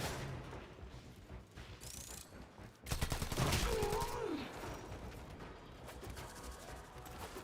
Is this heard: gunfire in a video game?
yes